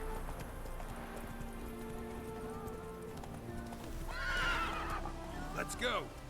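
Roach, Geralt's horse in the Witcher 3 video game, hooves clip-clopping steadily at a gallop, then whinnying and neighing loudly near the end, over game background noise with a voice talking.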